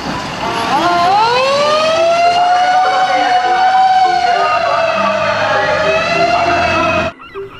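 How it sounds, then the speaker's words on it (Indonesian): A loud electronic siren wails steadily close up for several seconds, a toy fire truck's rising and falling tone, then cuts off abruptly. "Yang ini ada mobil pemadam kebakaran."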